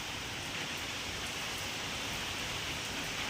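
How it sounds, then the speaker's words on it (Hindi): Heavy rain pours steadily, a dense, even hiss of drops striking surfaces with no pauses, fairly close. "देखो कितनी तेज बारिश होगी एकदम तक"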